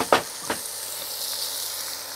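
Tomatoes hit a hot wok with king prawns over high heat, bursting into a sharp sizzle that settles into a steady, close frying hiss.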